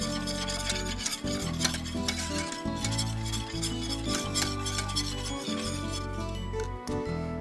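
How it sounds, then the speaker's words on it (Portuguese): A cashew cheese mixture with agar and turmeric is stirred in a pot as it nears a boil, with repeated scraping and clinking strokes in a steady rhythm, close and alone. "Deixa eu dar mais uma misturadinha aqui."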